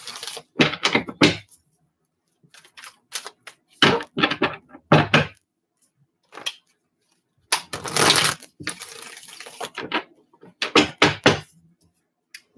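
Several bursts of riffling card shuffles, each a quick crisp flutter, separated by short silences and repeated through the stretch.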